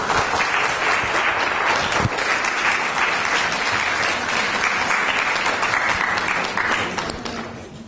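An audience gives a closing round of applause to the speaker after a talk on the mosque in society, a dense, sustained wave of clapping that holds steady for several seconds and then tapers off at the end.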